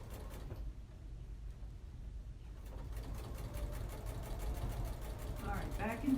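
A sewing machine stitching a tie onto a fabric face mask, a low steady mechanical hum and rattle that pauses briefly, then resumes and builds, heard close up.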